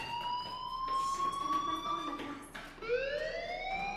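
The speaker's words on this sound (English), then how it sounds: "do you hear that fire alarm?" A fire alarm wails in the video game Life Is Strange: Chrysalis. Steady electronic tones sweep and shift pitch, sounding continuous and moderately loud, with no voices over it.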